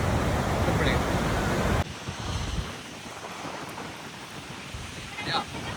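Rushing water at Niagara Falls, heard as a broad, roaring wash mixed with wind buffeting the microphone. It is loud at first, then drops to a softer, steady rumble.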